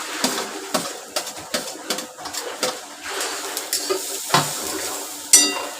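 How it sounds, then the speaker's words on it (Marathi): Fresh and dry grated coconut roasts in a pan, with repeated scraping stirs and a soft dry sizzle. The strokes are fairly close and irregular, with no talk. "हे ओलं खोबरं आणि सुकं खोबरं मी भाजून घेते"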